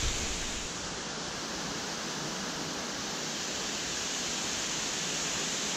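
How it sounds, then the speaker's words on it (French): A waterfall along a steep mountain ravine trail in the Caroux massif rushes as a steady, even broadband hiss, continuous and moderately distant, with no voices. "Ça fait une heure qu'on entend cette cascade."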